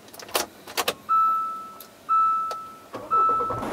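Three short electronic chimes from a Hyundai Santa Fe, each a bright sustained tone about a second apart, preceded by a few clicks and rustles inside the car.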